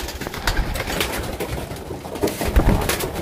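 Pigeons cooing close by as they gather to bathe, soft repeated throaty coos over light rustling and fluttering, no talking.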